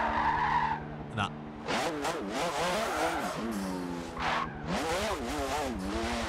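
A Formula 1 or IndyCar race car drifts in Forza 7 with loud, sustained tire squeal over a rising and falling engine whine. There are short vocal exclamations along with it.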